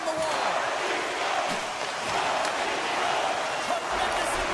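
Steady roar of an arena crowd cheering during an ice hockey video game, a continuous broadband wash with a play-by-play commentator talking over it throughout.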